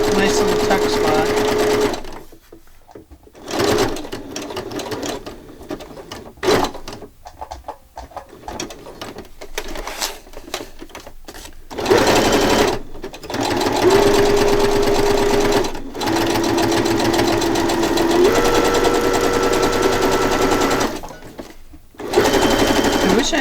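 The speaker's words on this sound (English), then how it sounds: "And I am sewing the bottom." A sewing machine stitches a paper journal page in loud whirring bursts that start and stop, with pauses and faint mechanical clicks between runs, while a person talks over it at times.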